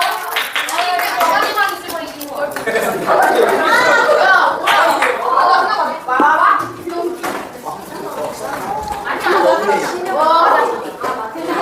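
Schoolchildren clap in a classroom after a focus game, a steady patter of many small hands under lively chatter and a teacher's voice throughout.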